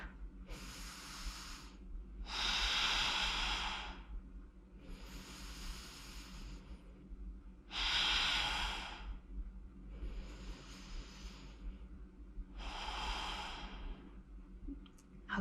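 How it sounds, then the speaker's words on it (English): Exaggerated, deliberate breaths during a gentle chair workout: three long, loud hissing exhalations alternate with softer inhalations in a slow, steady rhythm, close to the listener, with no talking. "do that over-exaggerated breath"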